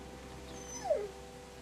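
A dog in The Walking Dead Telltale video game gives a single short, faint whimper, a thin rising-then-falling whine over quiet game ambience.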